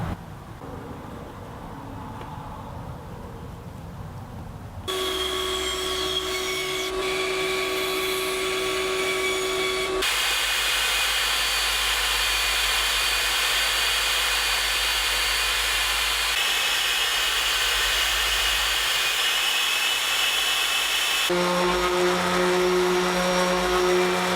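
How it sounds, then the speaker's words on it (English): A bandsaw trims the corners off a piece of wood, its steady motor whine and cutting noise running loud and continuous through several back-to-back passes with no talking. "trace out some lines so that I can cut them off on the bandsaw"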